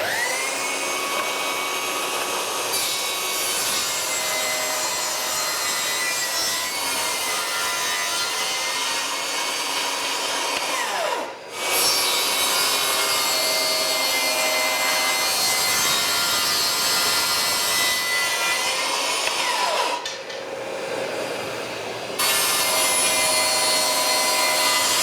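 Table saw or power saw ripping wooden slats at a 45-degree angle for French cleats, a loud continuous whining cut that runs almost unbroken, dipping briefly twice as one piece finishes and the next begins.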